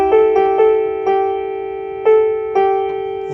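Notes on a Betsy B151 foldable, rechargeable electronic keyboard piano ring out with sustain held, about six strikes blending into one continuous, slowly fading tone. The playing is loud and close, with no voices.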